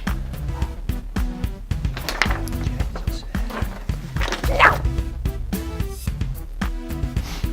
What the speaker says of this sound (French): Oh ta gueule le chien, non s'il te plaît, ferme-la.